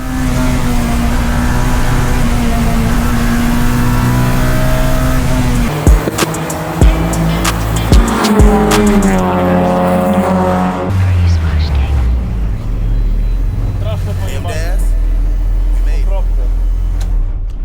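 Honda Civic race car engines, including EG and EK Civics, rev and whine loudly on a racetrack at night, shifting pitch as they accelerate and pass, with a sharp clatter midway and sustained engine drone throughout.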